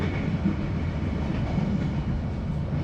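Steady rumbling rattle of the Matarmaja passenger train running from Bekasi to Malang, heard from inside a carriage as continuous low wheel and carriage noise with no talking.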